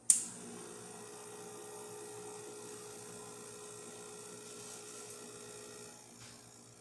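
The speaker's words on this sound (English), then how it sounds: "Let's make a espresso shot on it." A Diletta Mio espresso machine pulls a shot with a fine grind and very high pressure, giving a steady, quiet pump hum and drone after a sharp click at the start, then easing off near the end.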